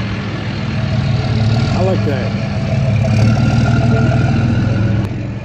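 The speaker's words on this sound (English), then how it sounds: "I like the sound of the diesels." A turbo diesel engine idles at a car show, a loud, steady low rumble running throughout, with people talking nearby over it.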